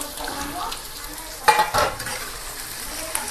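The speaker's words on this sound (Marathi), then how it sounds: "हे असं मस्त परतून घेऊया।" A spoon stirs green peas, potato and cauliflower over browned onion in a hot pan, giving a steady soft sizzle with a couple of louder scraping stirs of the utensil against the pan.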